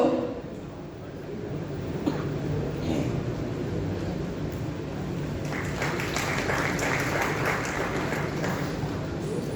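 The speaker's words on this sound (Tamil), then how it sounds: "ஒரு பெரிய கரகோஷத்துடன்" Large audience applause welcoming an actor onto a stage at a Tamil film event, a steady broad wash of clapping that swells slightly partway through and continues with some background voices mixed in.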